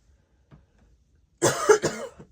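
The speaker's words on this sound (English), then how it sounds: "I'm still coughing" A woman coughs a few times close up, a short harsh burst following a near-silent start.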